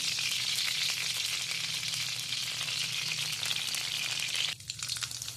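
Cooking oil sizzles steadily in a pan for a matki (moth bean) curry, a bright, even frying hiss that cuts off abruptly near the end, leaving faint crackles.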